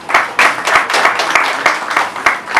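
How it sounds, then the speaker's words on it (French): An audience claps at an agribusiness investment talk evening in Cameroon, a lively burst of many hands with distinct sharp slaps standing out in a regular rhythm, fairly loud and close, with no speech over it. "Je vous remercie beaucoup de applaudissements"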